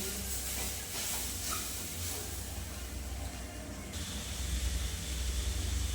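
Steady hissing and sputtering of water boiling over onto a gas stove flame in a home kitchen, a constant moderate sizzle with faint background rumble and no speech.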